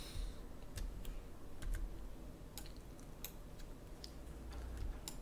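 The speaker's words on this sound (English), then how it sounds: "I'm going to hold down the tab key again." Computer keyboard keys pressed while working in Maya 3D software, including the tab key, give scattered light clicks over a steady background hum.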